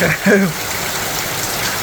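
Steady rain hisses continuously, with a brief voice at the start.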